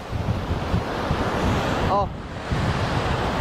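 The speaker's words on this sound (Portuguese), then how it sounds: "É bastante força o mar." Strong ocean waves break at a bodyboarding beach, producing a loud continuous roar of surf with heavy wind buffeting the microphone and a brief vocal exclamation.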